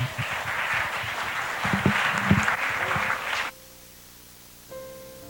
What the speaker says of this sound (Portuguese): Nós queremos agora te aplaudir em nome de Jesus